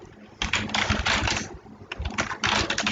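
Clattering keystrokes on a computer keyboard come in quick bursts with short pauses between, close and fairly loud, with no speech over them.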